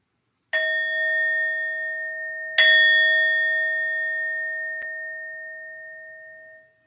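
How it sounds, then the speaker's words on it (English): A meditation bell is struck twice in a quiet room, each strike a clear bright ring that hangs and slowly fades, with a faint touch near the end and no talk. "We'll ring the bell."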